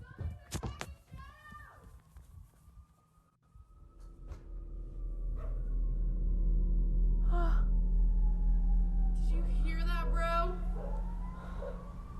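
Police sirens sound outside a house at night, a faint wailing tone that rises and falls over a low hum, with brief startled vocal sounds from people indoors.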